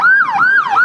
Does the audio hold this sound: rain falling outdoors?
no